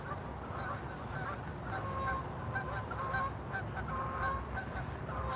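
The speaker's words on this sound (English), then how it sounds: "there's some geese flying overhead. You can hear them." Geese honk repeatedly as they fly overhead beside a railway line near the Chickamauga Dam, distant calls in a loose, uneven series over steady outdoor background noise.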